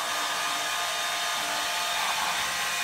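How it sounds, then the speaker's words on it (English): A hair dryer blows on a chicken with a steady, loud whooshing roar that stays constant throughout. "You like the hair dryer, Magnolia?"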